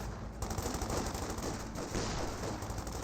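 .50 cal machine gun fire in a Company of Heroes 2 battle: continuous rattling bursts over a dense, loud backdrop of combat noise, with no pause.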